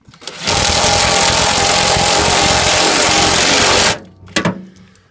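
A power tool tightens nuts on a washing machine during a brush-change repair, whirring loudly in one continuous burst of about three and a half seconds before cutting off, followed by a few light clicks.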